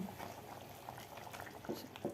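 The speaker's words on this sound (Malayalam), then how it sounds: "ഒന്ന് ഇളക്കി കൊടുക്കുക ഒന്ന് തിളച്ച് വന്നാൽ മതി" Soft, faint bubbling of thick kheer simmering in a pot, with little pops scattered irregularly over a couple of seconds.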